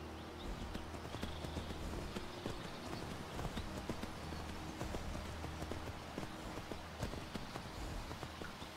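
Horse hooves clip-clopping in the video game Skyrim, a dense, steady patter of hoofbeats over a constant ambient game bed, close and continuous throughout.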